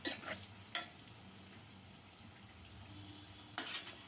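Wheat-flour potato snacks fry in a pan with a steady oil sizzle, broken by a few sharper spatula stirs and scrapes near the start, in the middle and near the end.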